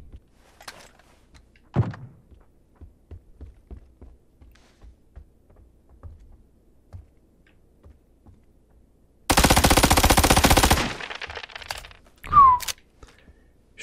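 Automatic gunfire in the PUBG video game, a dense two-second burst of rapid shots after scattered soft footstep-like thumps and one louder thud, followed by a short sharp ringing impact; no talking.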